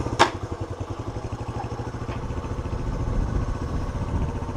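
A Honda CT90 motorcycle engine firing up with a sharp initial pop and then settling into a steady, rapid put-put idle, fairly close and alone.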